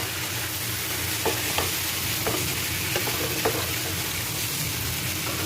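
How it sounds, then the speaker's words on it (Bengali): Marinated chicken with garlic and spices is stirred in a hot pan, giving a steady close sizzle broken by several soft scraping strokes of the spoon. "এই যে ম্যারিনেট করা মাংসটা দিয়ে দেবো, দিয়ে ভালো করে নাড়বো।"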